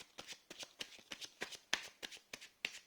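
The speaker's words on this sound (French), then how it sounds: "Je fais tomber les cartes, ça peut prendre des fois un peu de temps." Tarot cards are shuffled and dropped in quick repeated bursts, about ten close, crisp riffling flicks at a steady rhythm, soft and near with no talk.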